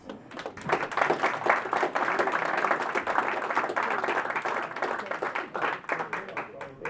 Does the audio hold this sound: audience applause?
yes